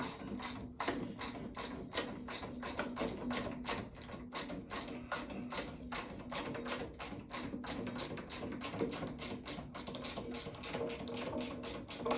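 Wrench loosening a 7/16 chain nut, a steady rapid run of ratcheting clicks repeated over and over at close range, with a faint mechanical hum underneath.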